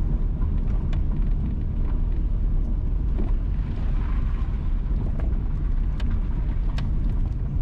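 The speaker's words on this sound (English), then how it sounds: "Currently, we are driving south from Labyrinth towards Gayle" A car drives south along the Frankfort to Gayle Road in St. Mary, Jamaica, heard from inside as a steady, loud low rumble of engine and road noise with faint scattered rattles throughout.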